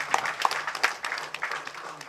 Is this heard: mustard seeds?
no